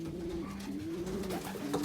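A racing pigeon in a breeding loft gives soft, low, rolling coos, close and fairly quiet, with faint background noise.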